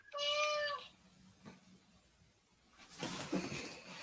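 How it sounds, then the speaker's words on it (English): Indoor house cat gives a clear, close meow at the start, followed by quiet room tone, a small bump, then a softer, hissy vocal or rustle later. "I think the cat wanted to answer."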